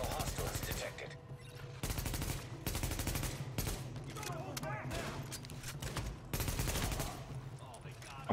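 Bursts of automatic gunfire from a firefight in the video game The Division, set at Madison Square Garden, hammering in loud repeated volleys with short pauses between them.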